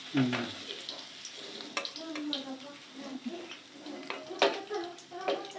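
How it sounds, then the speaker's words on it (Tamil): Paneer cubes fry in oil in a kadai with a soft, low sizzle and occasional stirring clicks, while a person talks over the cooking throughout. "பன்னீர் வந்து ஃப்ரை ஆயிடுச்சு இது நல்லா கோல்டன் கலராக நல்லா மாறிடுச்சு"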